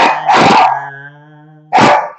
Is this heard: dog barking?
yes